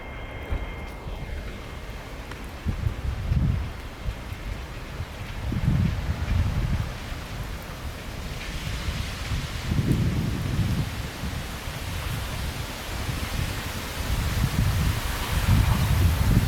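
Steady rain falls with wind over a hillside at L'Anse while low rolls of thunder swell and fade several times, constant and fairly loud, with no voices.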